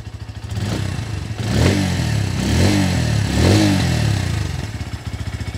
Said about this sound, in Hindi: listen to the exhaust of this motorcycle